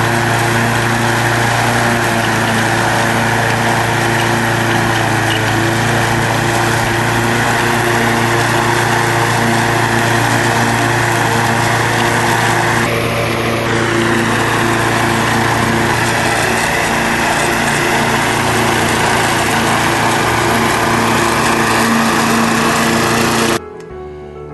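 A common walk-behind lawn mower runs steadily and loudly up close for over twenty seconds, its engine drone unbroken apart from a brief wavering dip near the middle, then cuts off abruptly at the end.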